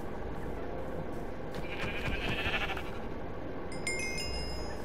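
A sheep bleats in Minecraft, one drawn-out wavering call in the middle over a steady background bed of game ambience, with a short chiming tone near the end.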